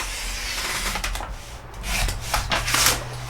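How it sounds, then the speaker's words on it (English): Faux leather material being cut by hand on a cutting mat, giving close, scratchy rubbing and slicing sounds in uneven strokes, with a steady low background hum and no talking. "I'm just going to cut off this bit here"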